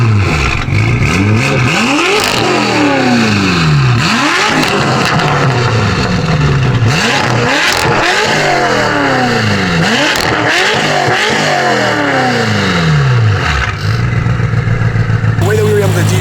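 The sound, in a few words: custom BMW M6 engine revving to 8,000 RPM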